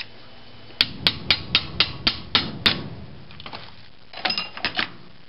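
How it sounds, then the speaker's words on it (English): A nail is tapped down into a cap with a tool while a small motor rotor is being assembled, a quick series of crisp close taps, then a short pause and a few more lighter knocks. "And use something else to tap it all the way down."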